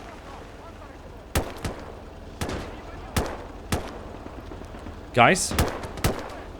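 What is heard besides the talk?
Finnish Lahti machine gun fire in a video game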